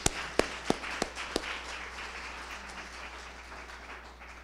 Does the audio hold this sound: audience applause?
yes